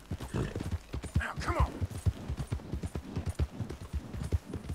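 Steady clip-clopping of horse hooves from Red Dead Redemption II, a regular beat of hoof thuds running under someone talking throughout.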